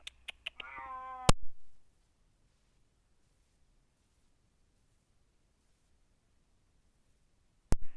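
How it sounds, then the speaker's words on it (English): A loud cat meow with a sharp rising harmonic cry, preceded by a few short clicks, then near silence with a brief sharp knock at the end. "My cat is very loud."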